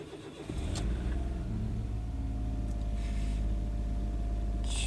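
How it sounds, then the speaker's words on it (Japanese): A Suzuki Wagon R that has been starting slightly poorly catches after a brief crank, then settles into a steady, loud, close engine idle with no talking. "エンジンのかかりが若干悪い感じになってきました"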